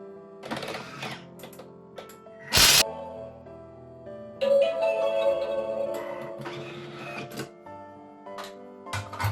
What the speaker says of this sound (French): je vais mettre les amandes frites. Et je vais mixer 15 secondes, vitesse 5